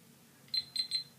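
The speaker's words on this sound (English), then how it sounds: "now you want to start your timer" Three short, bright beeps from a kitchen timer as it is set, close and clear in an otherwise quiet room, with no talking.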